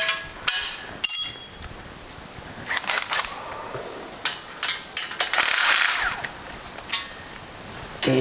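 A hand wrench ratchets on a bolt in short clicking bursts, close and crisp, with metallic taps and small clanks between strokes and no talking.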